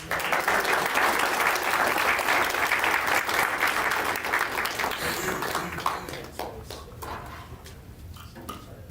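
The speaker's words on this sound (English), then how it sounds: "You guys need us to clap for you?" A school board meeting audience bursts into applause, dense clapping from many people that holds steady, then thins and fades over the last few seconds into scattered claps.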